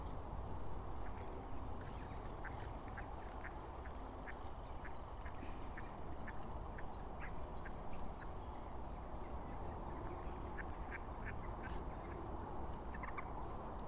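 A family of ducklings quacking outdoors in repeated short calls, faint under a steady wash of background noise.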